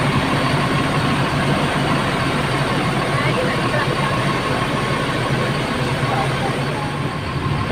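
NPM intercity bus pulling out of the bus pool in Padang, a constant loud rumble of a heavy engine with broadband road and crowd noise throughout.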